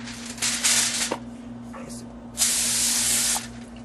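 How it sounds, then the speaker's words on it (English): Cooking spray hisses from a can onto foil in two bursts, the first about a second long, the second firmer and longer, close and clear with light rustling between. "make sure you spray your foil or use non-stick foil."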